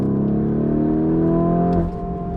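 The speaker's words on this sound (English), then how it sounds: "That twin turbo V8 roaring to life." A powerful twin turbo V8 car engine starts and revs loudly up close, holding a rising droning roar before dropping back to a lower idle.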